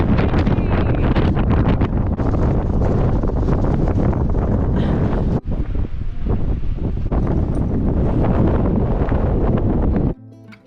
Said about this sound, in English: Blowing gale.